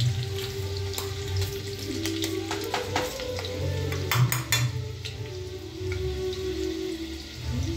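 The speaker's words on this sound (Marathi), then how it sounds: "लसूण बारीक चाप करून घेतलेला आहे मी, 3-4 पाकळ्या. आता आपण याच्यामध्ये तेलात घालूया" Three or four finely chopped garlic cloves sizzle in hot oil for a greens curry, with a steady close crackle and spitting and a few sharper pops and clinks partway through.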